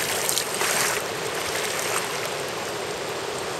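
Strong river rapids rush among large boulders, a continuous loud broadband roar of churning water with brief surging splashes, heard alone without talk.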